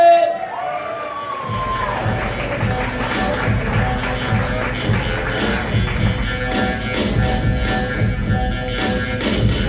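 A stand-up comedy club audience claps and cheers for the next comedian, a dense steady roar of applause and whoops that fills the room from start to finish, with a voice briefly heard at the start.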